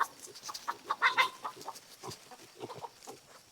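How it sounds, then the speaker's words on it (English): Chickens inside temporary electric poultry netting cluck and squawk in short agitated bursts after being shocked, with several close calls overlapping and no talking. "You hear the chickens are getting all shocked?"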